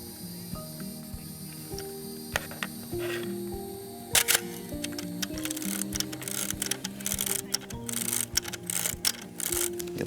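Medium format camera on a lightweight Neewer LT32 carbon fiber tripod as the dark slide is pulled and focus set, giving a run of close, sharp mechanical clicks and slides, with a few louder knocks and rustles toward the end.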